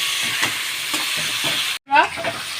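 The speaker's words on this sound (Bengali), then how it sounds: "এবার টমেটোটাও আমরা একটু ভাজা ভাজা করে নেব" Chopped tomatoes frying with onions in a pan for a chicken curry, a steady close sizzle with soft scraping stirs, briefly cut off before the hiss returns.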